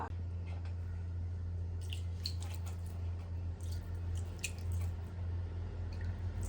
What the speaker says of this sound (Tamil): இப்போ கொஞ்சமா நம்ம தண்ணி தெளிச்சு எடுத்துக்கலாம்.